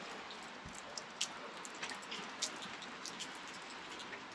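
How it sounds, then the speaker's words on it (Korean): Light, steady rain falls on a quiet Saturday morning during a typhoon weekend, a soft continuous wash with scattered small drop ticks, faint and distant. "비가 계속 온다."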